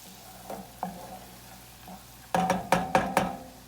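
Onions fry under a soft, steady sizzle for a chicken pot pie filling, then a run of five or six sharp, loud utensil scrapes and clacks against the pan near the end; no talking.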